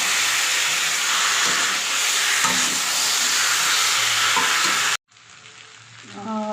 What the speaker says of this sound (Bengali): একসঙ্গে নাড়াচাড়া করে কষিয়ে জল দিয়ে দেবো।